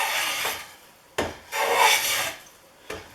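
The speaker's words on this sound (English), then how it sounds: "For this test drive, I'm going to be doing the concave planing first on a 3/4 inch piece of poplar." A Stanley No. 20 circular plane cuts a concave curve in a 3/4 inch piece of poplar, making raspy, woody shaving strokes up close: two long sweeps and a few short scrapes in an uneven rhythm.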